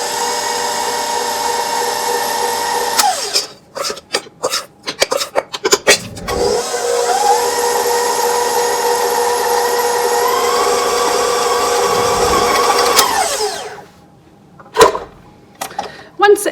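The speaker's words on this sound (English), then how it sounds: "I'm gonna gradually beat in the flour mixture" An electric stand mixer beats flour mixture into chocolate chip cookie dough, a loud whirring motor in two long runs separated by clattering bowl and paddle knocks and short pauses.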